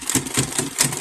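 Sewing machine running a reverse reinforcement straight stitch on men's shirt cuffs while making a bag: a steady mechanical whirring with rhythmic needle thumps, close and fairly loud, no voices.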